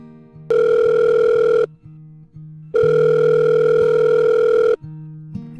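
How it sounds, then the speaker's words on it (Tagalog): A phone rings in two long electronic bursts separated by a pause, loud and close, with quieter tones and clicks between and after the rings. "biglang mag-ring ang aking phone"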